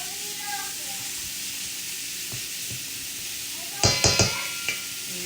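Dry apple fritter ingredients, sugar with nutmeg, cinnamon and salt, are stirred together in a bowl, giving a low steady rustle followed by a few sharp scraping clinks near the end.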